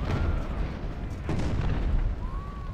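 Artillery guns firing in the Ultimate General: Civil War video game, a few muffled booming reports rolling over a noisy battlefield bed, moderately loud and somewhat distant.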